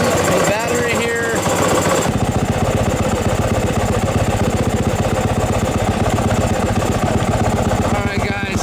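A Yamaha YZ dirt bike engine idles with a steady low pulsing throb, close and fairly loud. A voice speaks briefly over it near the start, then the engine runs on alone.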